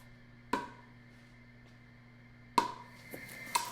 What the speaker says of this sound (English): That's off a pickleball paddle, yeah.